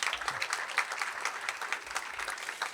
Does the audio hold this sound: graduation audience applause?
yes